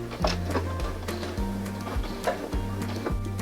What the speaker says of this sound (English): As you come to the end, just slightly overlap your stitching.